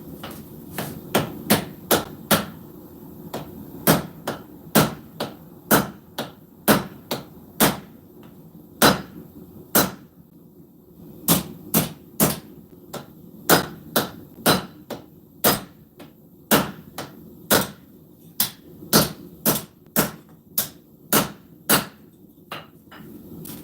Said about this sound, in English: Instead of cutting the line in, we just use the edge of the anvil to create our notch for us.